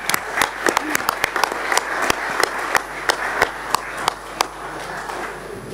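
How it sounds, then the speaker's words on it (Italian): Applause for city council members at a council meeting in Francavilla al Mare: a room full of steady, moderate clapping with a few louder, sharper claps standing out, continuous throughout. "Direi di procedere con un applauso a tutti gli assessori"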